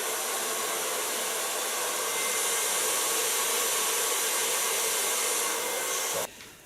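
A hair dryer blows on wet, freshly colored hair in a steady, loud, close whoosh for about six seconds, then cuts off abruptly at the end.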